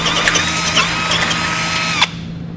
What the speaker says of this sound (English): So we can grab a 1/2 inch drill bit and a drill.